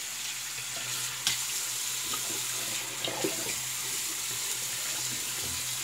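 Water runs steadily from a tap into a bathroom sink during a wet shave, a continuous close hiss and splash with occasional small clinks, no voices.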